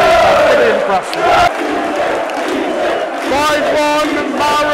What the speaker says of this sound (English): the Bruges fans stayed to the end, no sneaking out, cheering on their team